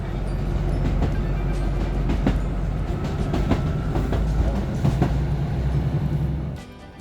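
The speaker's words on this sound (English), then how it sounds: "the old rat-a-tat-tat of the wheels going over the joints" Train journey from Whitby to Middlesbrough heard from inside a carriage: a steady low rumble with rhythmic clickety-clack as the wheels cross rail joints, loud and continuous, easing off at the end, with no talk.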